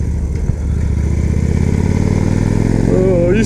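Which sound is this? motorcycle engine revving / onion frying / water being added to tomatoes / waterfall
motorcycle engine revving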